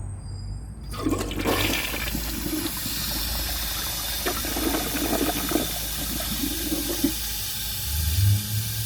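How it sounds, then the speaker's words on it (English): A 1998 Eljer Patriot toilet, fitted with a replacement flapper, flushes close by: a sharp lever clunk, then a rushing swirl of water draining and a tank refilling with a gurgling hiss for several seconds, with no talking. "So let's give this a flush and see how it does on tests."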